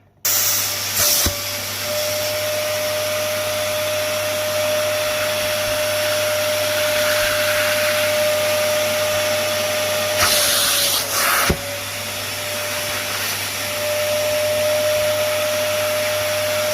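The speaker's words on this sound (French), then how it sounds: "Je ne pourrai pas vous parler pendant le mode aspiration car c'est relativement bruyant" A Parkside carpet extractor's loud, steady roar of vacuum suction runs throughout with a constant whine, briefly interrupted by a couple of short bursts; no talking.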